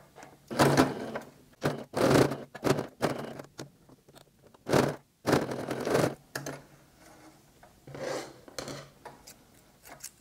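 A sewing machine stitches a fabric face mask with an adjustable elastic, running in short bursts of rapid whirring that start and stop repeatedly with pauses between them, close and fairly loud.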